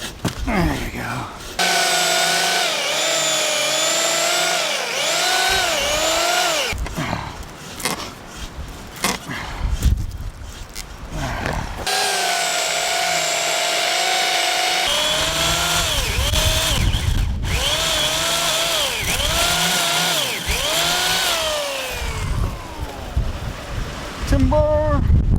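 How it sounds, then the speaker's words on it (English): A chainsaw cuts through fallen timber during storm and fire cleanup on a mountain, its motor revving up and down in loud, close bursts with brief pauses between cuts, while voices talk over it. "I think I need to go home and get my chainsaw"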